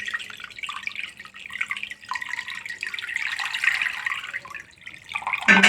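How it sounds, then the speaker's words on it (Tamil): Tap water runs and splashes steadily while sabudana (tapioca pearls) is rinsed in a sink, close and fairly loud, with dripping and sloshing throughout and no talk. "நல்லா ஒரு 2 டைம்ஸ் 3 டைம்ஸ் நல்லா வாஷ் பண்ணிடலாம்."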